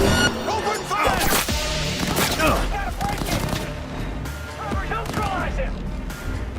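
Rapid bursts of gunfire and impacts from the video game Cyberpunk 2077 crackle in loud, dense volleys, with voices shouting among the shots.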